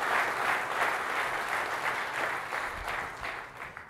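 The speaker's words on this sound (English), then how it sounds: "oh, I didn't need the applause" Steady applause from a conference audience at a general session, continuous and fairly loud for the full length, with no talking over it.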